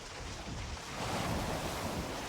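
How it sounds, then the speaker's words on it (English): Constant, full-bodied rush of video game wind with a surging, wave-like roar that swells slightly midway, no voices. "Must be windy."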